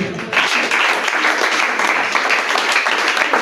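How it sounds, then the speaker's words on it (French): A church congregation applauds loudly and continuously, dense clapping filling the hall from start to finish. "Est-ce qu'on peut encore une fois acclamer Dieu?"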